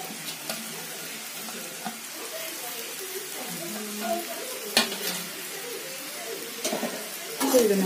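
Boiled millet noodles tossed and stir-fried in a hot pan give a steady close sizzle, with repeated scraping and clattering strokes through the whole stretch and a louder clatter near the end.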